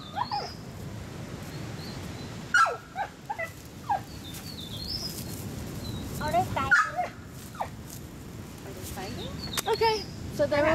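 A dog on a Costa Rica beach gives several short yips and whimpering barks at intervals, fairly close, over steady surf-like background noise, with people talking intermittently.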